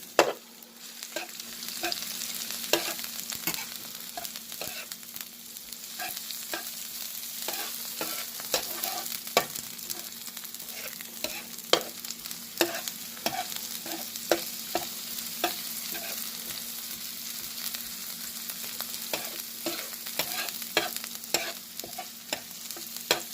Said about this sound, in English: We add in some green onion now. Remember, we're doing this on the grill top, you know.